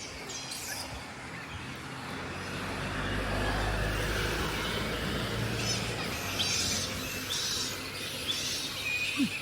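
Active birds sing and chirp outdoors near a creek in hot summer weather, scattered calls over a continuous ambient wash with a distant road vehicle rumbling through the middle.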